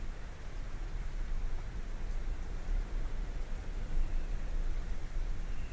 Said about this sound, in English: I feel like these rain noises are really freaking loud.